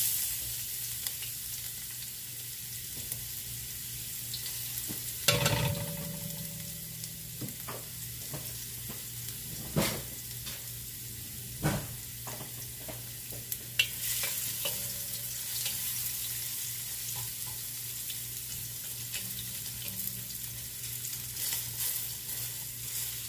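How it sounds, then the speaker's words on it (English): Garlic sautéing in two tablespoons of vegetable oil in a pan for pancit bihon, a steady soft sizzle with occasional sharper stirring clatters and a louder burst near the start, no talking. "Ngayon, gigisahin na natin yung ating bawang."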